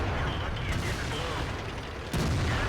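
A tank's ammo rack detonates in World of Tanks while driving a T57 tier 10 heavy tank, a sudden heavy boom over constant engine rumble and battle noise, with a voice talking over it.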